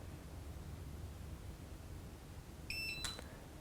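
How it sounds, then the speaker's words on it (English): An electric scooter gives a short electronic beep once, clear and high-pitched, over a low steady hum in an otherwise quiet space. "And then you hear that beep"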